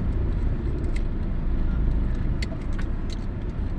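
Steady road traffic on EDSA at Guadalupe, Metro Manila, a continuous low engine rumble from slow-moving cars with a few faint higher clinks and hisses, close and constant throughout, with no talking.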